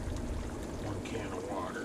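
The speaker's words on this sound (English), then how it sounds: "You have to add a can of water." A can of water poured into a hot-dish with cream of mushroom soup, giving a steady close splashing pour under ongoing kitchen chatter.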